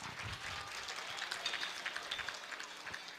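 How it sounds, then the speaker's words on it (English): Faint, distant applause from a gala audience after a performance at a Tamil heritage celebration, an even patter of clapping throughout. "Could we please get another round of applause for that amazing performance?"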